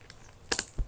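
Sticky tape being peeled by hand off a Disney Doorables toy package, heard as a few short, close crackling rips with a soft thump at the end.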